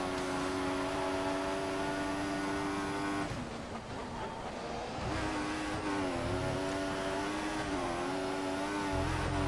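A Formula 1 car in the F1 2014 racing game drives on steadily, its engine holding a loud, continuous high-pitched whine with rising and falling pitch as it shifts and changes speed, heard alone without talk.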